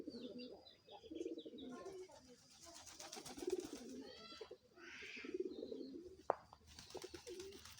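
Soft cooing of pigeons repeats at a gentle pace outdoors near chickens before dusk, joined by scattered chirps and a brief sharp knock, all fairly faint.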